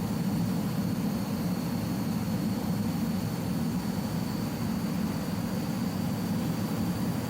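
Just Flight Hawk T1 jet in Microsoft Flight Simulator descending with full flaps on a turning approach, a steady broadband engine roar and airflow rumble holding at constant loudness throughout with no talk.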